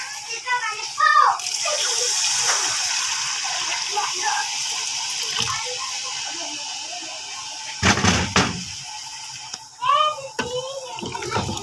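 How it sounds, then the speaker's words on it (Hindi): Water pours into a pot of chickpea curry in a home kitchen, a steady gushing stream under speech, with a voice breaking in now and then. "हम इसमें ऐड कर देंगे पानी।"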